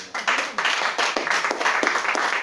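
A congregation at a church worship service breaks into applause, a dense and lively burst of many people clapping that stays steady and fairly loud, with a little cheering mixed in.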